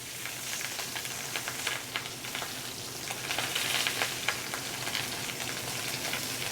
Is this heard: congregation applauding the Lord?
no